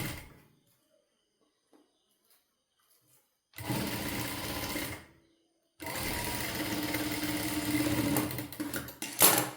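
A sewing machine stitches an Onam blouse in two bursts of fast mechanical whirring, one short and one longer, separated by quiet pauses, close up with no speech.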